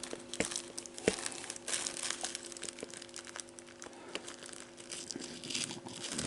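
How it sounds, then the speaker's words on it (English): A sticker being picked and peeled off a LaserDisc, steady close crinkling and faint tearing with small scratchy clicks, continuous and fairly quiet, with no talking. "Man, I gotta get that sticker off of there."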